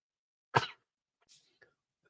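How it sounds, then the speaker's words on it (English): A single sharp, loud sneeze bursts out, followed by a couple of faint breathy sounds and small clicks, with no talking. "Sneezing like a mother over here."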